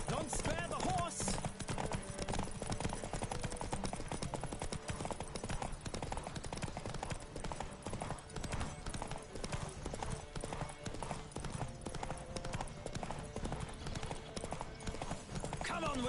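Horse hooves clip-clop at a steady gallop in The Witcher video game, a dense continuous rhythm of hoofbeats that runs the whole time with an occasional whinny mixed into the busy game soundscape.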